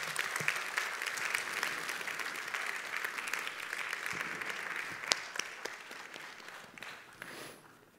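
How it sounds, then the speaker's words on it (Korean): A church congregation gives warm applause to welcome Pastor Pete Richardson at a Sunday service: steady, full clapping from a sizable crowd, slightly distant, tapering off toward the end. "이제 우리 리처슨 목사님 뜨거운 박수로 맞이해 주시기를 바랍니다."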